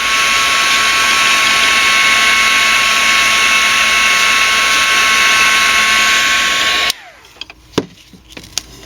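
A hair dryer blows steadily and loud for about seven seconds, drying homemade alcohol-based gray glimmer mist, then switches off, leaving faint clicks and handling noises.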